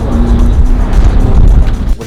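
A Lamborghini engine roars loud and close in a short, dense burst with a slight rise in pitch before it cuts off abruptly.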